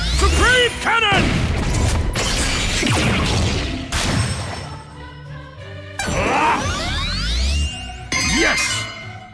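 A Supreme Cannon attack blast in the video game Digimon Story Time Stranger: loud, layered booms and crashing impacts with metallic chimes and sweeping effects, in several bursts across the whole stretch.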